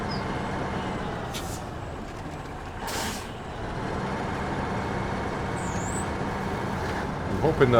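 In SnowRunner, a truck's air brake is set with sharp hissing bursts of released air, one near the start and a louder one a few seconds later, over a steady diesel idle, with talking also present.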